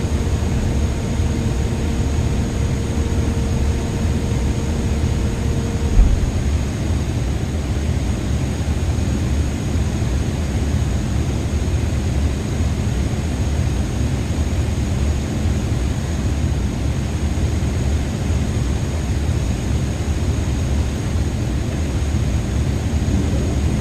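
An airliner taking off in Microsoft Flight Simulator 2024 gives a steady, loud engine roar that holds for the whole stretch, with a faint thin tone fading out early on and no voices.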